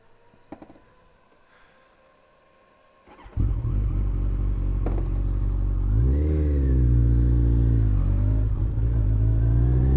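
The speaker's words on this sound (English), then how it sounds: "let's jump on the wicked ZZR1400, let's go for a ride" A Kawasaki ZZR1400 sport motorcycle, also sold as the ZX-14R, is quiet at first, then its engine roars to life. It revs up loudly, rising and falling in pitch as the bike pulls away, with a steady heavy drone close by.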